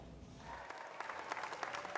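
A crowd outside 10 Downing Street claps and cheers as UK Prime Minister Truss arrives for her first speech, a steady distant patter of applause rising in density.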